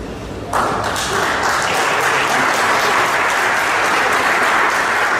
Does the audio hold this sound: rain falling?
no